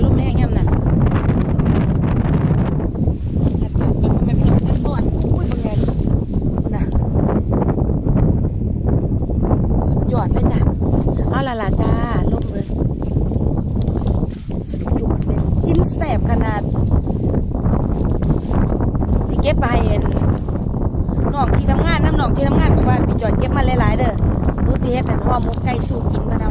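A dry sea wind buffets the microphone in a steady, loud roar with gusty swells, while a person talks throughout.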